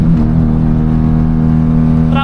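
A 1991 Saturn SL2 drives on the road, its engine droning steadily and loudly from inside the cabin in a short, unbroken stretch.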